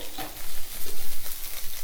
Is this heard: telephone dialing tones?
no